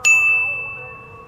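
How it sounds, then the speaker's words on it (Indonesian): A single bright notification bell ding rings out clearly at the start, then its pure tone slowly fades away on its own, with no voices. "nyalakan lonceng notifikasinya"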